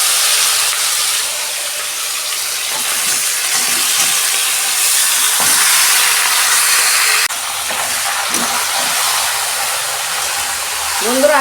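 Chicken meat hits a hot pan of fried cloves and cardamom and sizzles loudly, a steady, broad hiss that runs continuously with occasional small spatters and a brief voice near the end.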